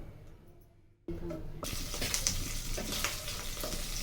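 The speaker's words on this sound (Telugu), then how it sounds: "చూడండి జీలకర్ర కరివేపాకు వేగుతుంది కదా" Cumin seeds and curry leaves frying in hot oil burst into a loud, steady sizzle after a quiet start, crackling close up with small pops throughout.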